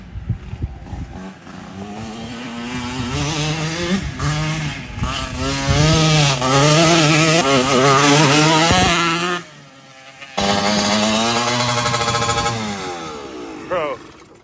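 A Yamaha Raptor 250 quad fitted with a Yamaha YZ125 two-stroke motor and smaller back tires screams up through its power band, revving hard and loud with rising pitch, briefly cutting out before climbing again.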